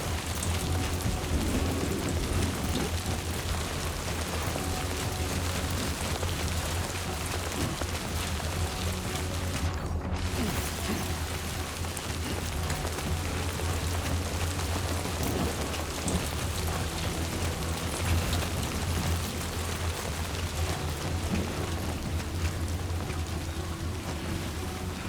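Steady rain with low rumbling thunder in the video game Death Stranding 2, a dense continuous downpour holding an even level throughout, with one brief dip near the middle.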